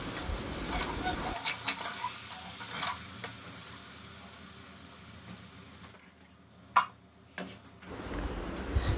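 Mutton frying in a pan with ginger-garlic paste, stirred with a utensil: a steady sizzle with scattered scraping ticks and clinks, moderately close, with no talking.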